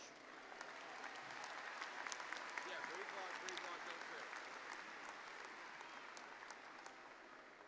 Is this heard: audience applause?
yes